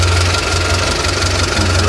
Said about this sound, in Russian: Посмотрим, как выглядит движок.